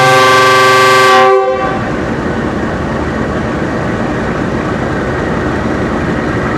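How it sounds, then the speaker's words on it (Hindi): Departure whistle of the 6 Down Green Line Express train at Rawalpindi railway station, a loud, close, sustained horn-like tone for just over a second, followed by steady, rumbling station and train noise. "ये दूसरा विसल भी दे दिया।"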